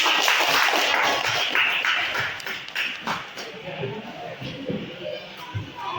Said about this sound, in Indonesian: Semangat dong, tepuk tangan untuk teman-teman.